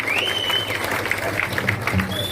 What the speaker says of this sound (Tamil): அனைவரும் உங்களது கரகோஷங்களை எழுப்பி ஆதரவு தருமாறு அன்போடு கேட்டுக்கொள்கிறேன்